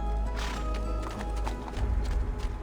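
Horse hooves clip-clop in Assassin's Creed 2, a steady run of hoof strikes close by, over a constant low ambient bed and with louder, heavier steps toward the end.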